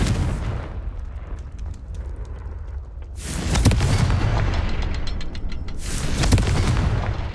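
Confringo blasting spell explosions in Hogwarts Legacy, two loud booming blasts a few seconds apart, each with a sharp crack followed by a rumbling tail, over low ambient rumble.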